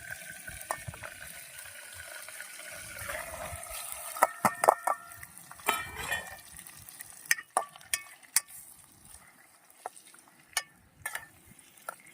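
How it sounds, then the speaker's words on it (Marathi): Fish coated with salt and turmeric fries in oil in a pan outdoors by a river, a crackling sizzle broken by sharp pops and spatters of varying loudness. "आणि आपण आता करू फ्राय."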